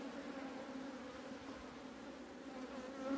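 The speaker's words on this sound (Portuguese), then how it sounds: "Aqui, as que estão voando aqui, não é do enxame aqui, é de fora." Honey bees buzz steadily around a hive, a continuous droning hum from many insects flying close by, with no voices.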